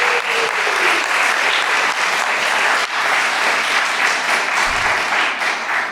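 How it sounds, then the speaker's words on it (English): Loud, sustained applause from a recital audience honouring the parents of young musicians, a dense wash of many hands clapping steadily throughout with no pauses. "a warm round of applause for the parents of these children"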